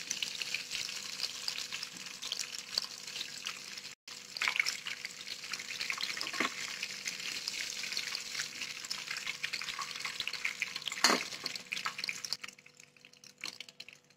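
Prawn kola balls fry in a pan of oil with a dense, continuous sizzling hiss close by, steady apart from one brief break and a softer tail at the end.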